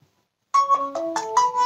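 A mobile phone ringtone plays alone, a bright synthesized melody of several stepping notes that starts abruptly and continues in a quick rhythm.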